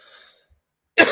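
A single sharp cough bursts out close to the microphone at the end, following near silence.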